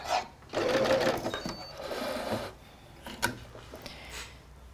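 An overlocker (serger) stitching a bra cup through three layers of fabric: a steady, close mechanical whirring burst for about two seconds, then quieter rubbing and handling noises with a brief click.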